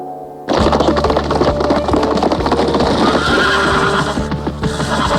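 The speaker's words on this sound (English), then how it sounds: "This is the orneriest horse in Polecat Flats." A horse lets out a loud, close whinny that carries on for several seconds over clattering, knocking noises.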